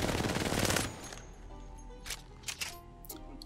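Rapid automatic gunfire from R99 and R301 weapons in the video game Apex Legends, a dense loud burst for about a second, then a few scattered clicks and short shots, no talk.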